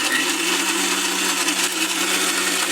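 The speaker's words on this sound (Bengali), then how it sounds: "তো আমি এটাকে ব্লেন্ডার করে নিলাম।" An electric blender whirs steadily while blending lemon and papaya peels with water, a loud, continuous motor drone that stays constant from start to finish.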